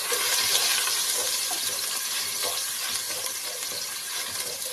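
Sliced ginger sizzles in hot cooking oil for arroz caldo, a loud, steady, dense crackle that holds unbroken throughout.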